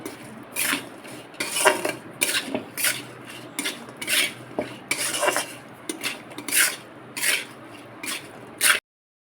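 Small fish tossed and mixed with mustard oil in a bowl, giving repeated close scraping and clinking of utensil against the dish in irregular bursts, with no talking.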